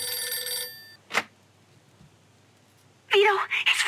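A phone rings with a bright, trilling electronic tone in the Mafia II game for about a second and then cuts off. A short thump follows, then quiet, before a voice starts speaking near the end.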